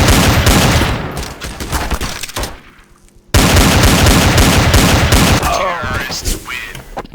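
Rapid gunfire from the Counter-Strike video game, loud bursts of shots filling most of the stretch with a brief quieter gap, with faint talk underneath.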